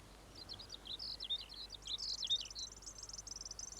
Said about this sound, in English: Yes, listen to that bird.